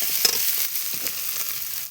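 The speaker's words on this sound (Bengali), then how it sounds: "মশলাটাকে এইভাবে কষিয়ে" Spice paste with ground chilli frying and being stirred for a jackfruit curry, a steady close crackling sizzle with soft scraping strokes throughout.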